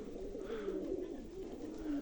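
Soft, low coos from leg-banded, numbered pigeons roll steadily through the clip, close by, with a murmuring throaty quality and no voices.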